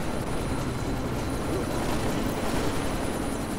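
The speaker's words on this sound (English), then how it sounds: "Where's the chopper?" A helicopter in the video game Deus Ex: Mankind Divided, a steady loud rotor and engine roar with a dense rumbling wash, continuous and close throughout.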